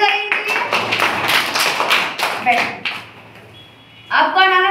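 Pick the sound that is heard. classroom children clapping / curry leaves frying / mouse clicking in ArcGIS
classroom children clapping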